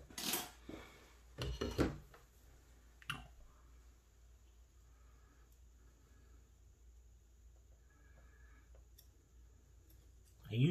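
Scissors trimming the front of small model boat parts for a piragua with a lateen rig: a few close, crisp snips and clicks early on, then a long quiet stretch with a faint click at the end.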